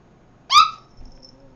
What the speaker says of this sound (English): What you barking about?